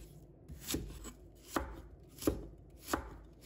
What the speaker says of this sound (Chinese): 再准备半个洋葱， 把它切成细丝